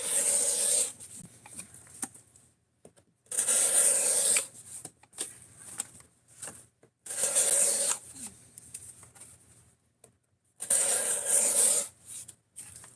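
Knife blade with a stainless steel, 18-degree edge cutting through material close up, repeated long rasping strokes of a few seconds each separated by short pauses, with no talk.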